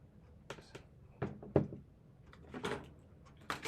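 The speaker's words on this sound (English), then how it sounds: "you need to make sure that this battery door is fully closed like that" Small plastic battery door on a DJI Action 4 action camera being pressed shut, a few short quiet clicks and snaps spread over a few seconds, close up with no talk.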